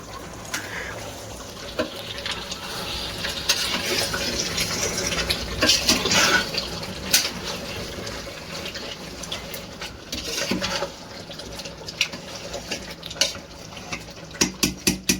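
Water poured into a pot of garlic mutton curry during cooking, a continuous splashing pour with stirring and clinking of utensils, followed by a few sharp taps near the end.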